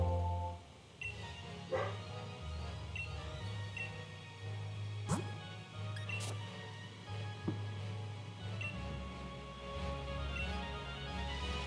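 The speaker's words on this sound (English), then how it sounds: "she's barking again" A dog barks in short, sharp bursts from some distance in a room, while a person talks over it and a steady background hum runs throughout.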